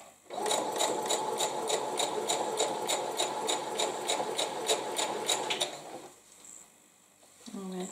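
A sewing machine stitches pieced quilt fabric in a fast, even run of needle strokes for about five seconds, then stops, leaving quiet handling noise.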